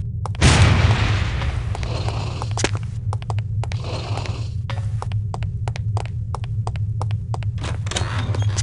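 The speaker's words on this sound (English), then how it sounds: "These relatively inconspicuous-looking lipsticks are actually powerful explosive devices that detonate on impact." An impact-detonated lipstick explosive goes off in the stealth shooter No One Lives Forever, a loud boom followed by a low throbbing hum and scattered clicks and ticks alone without speech.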